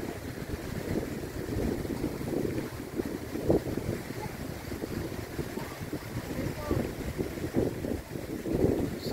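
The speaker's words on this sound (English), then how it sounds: "It's really windy, so I hope you can hear me okay." Strong gusting wind buffets the microphone outdoors, producing a rough, uneven low rumble that surges and fades throughout, with no clear speech.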